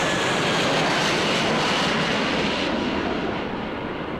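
An airplane passes overhead with a loud, steady roar of engine noise that slowly fades as it moves away. No other sounds stand out.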